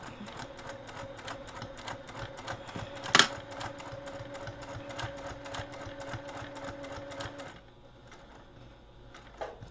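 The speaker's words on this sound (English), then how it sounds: "I am going to pivot and sew down." Steady rapid stitching of a sewing machine sewing a passport cover, close and moderately loud, with one sharp clatter midway before the motor stops near the end.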